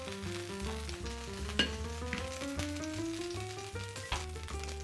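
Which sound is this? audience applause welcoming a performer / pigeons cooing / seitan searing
seitan searing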